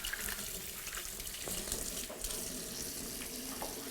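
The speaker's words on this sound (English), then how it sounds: "I'll wash my hands beforehand." Tap water runs steadily into a kitchen sink as hands are washed, a continuous close hiss and splash with slight shifts in flow.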